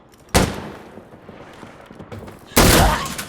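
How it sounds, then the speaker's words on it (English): Gunfire in the shooter game Insurgency Sandstorm: two sharp, loud bursts about two seconds apart, each with a ringing tail, over faint background noise. "Sumbak, friendly fire!"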